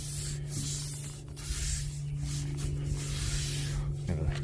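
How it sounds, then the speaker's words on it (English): Scrubbing dirt off a wooden goat climber: a steady, close rubbing and brushing texture over a constant low hum, continuous for several seconds. "We're gonna scrub it down, get some dirt off of there."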